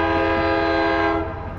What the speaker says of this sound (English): Give me a nice horn show, New Jersey Transit